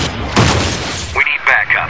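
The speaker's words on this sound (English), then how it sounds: "Heavy gunfire exchanged." Heavy gunfire in a Hancock movie trailer, a loud dense burst of shots and booms that cuts off into a short radio-like voice and tonal trailer effects.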